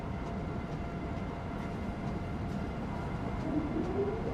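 Metro-North train passing in Train Sim World, a continuous close rumble of wheels and cars with faint rhythmic clicks that runs through the whole stretch.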